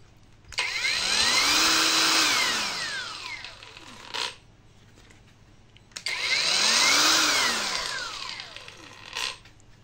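An APR AP22Pro cordless angle grinder spins up with a high whine, runs a few seconds, then winds down; the run-up and wind-down happen twice, close and loud, with nothing else heard.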